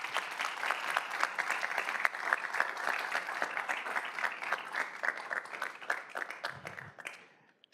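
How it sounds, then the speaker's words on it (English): Audience applause at a city council meeting in Montebello, a steady wash of clapping from many hands that holds for several seconds, then thins and fades out near the end. "a round of applause as we recognize them for all that they do"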